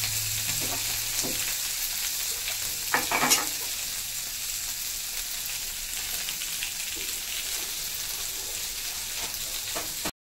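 Eggplant slices fry in a pan with a steady crackling sizzle throughout, close by. A few scraping stirs stand out near the middle.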